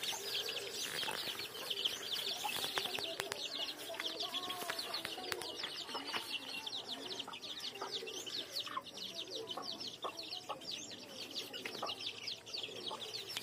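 Young crossbred chicks of Kilimooku and fantail chickens peep and chirp busily and constantly, with a few clucks from nearby fowl and occasional thumps, close and fairly loud without talk.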